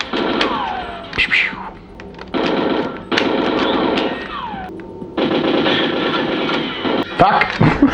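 Gunfire in the GoldenEye video game, bursts of shots alternating with gaps across the stretch, loud and close, with a player's voice talking over the action.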